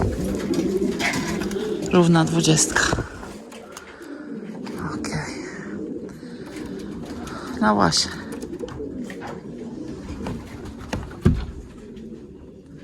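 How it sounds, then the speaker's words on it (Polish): Racing pigeons coo in a loft after a 340 km race from Gransee, giving repeated low, throaty calls while people talk nearby. "i gołębie w gołębniku już jest"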